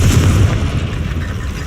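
A deep, heavy boom from a Confringo fire spell exploding in Hogwarts Legacy, a loud low blast at the start trailing off into rumbling noise.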